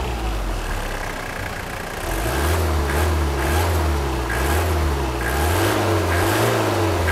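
A car engine running on homemade B100 biodiesel idles, then is revved several times from the exhaust, a deep rumble rising and falling in repeated swells, loud and close with no talking.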